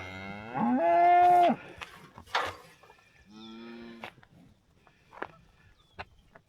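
Several loud, drawn-out cow moos, one long low bellow first and another shorter one later, with quieter rustling and shuffling in between.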